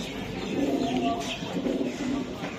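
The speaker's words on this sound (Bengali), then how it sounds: "এটা ডাইরেক্ট ইন্ডিয়ান কবুতর, ইন্ডিয়ান নীলা কবুতর" An Indian Nila high-flyer pigeon coos softly in low, rolling murmurs, set against steady background noise.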